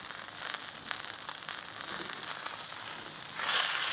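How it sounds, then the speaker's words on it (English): Beef searing in beef tallow on a hot surface, a loud dense continuous sizzle close up that swells slightly toward the end, with no voices. "I just put some beef tallow down. We're just gonna cook them 3 and 3."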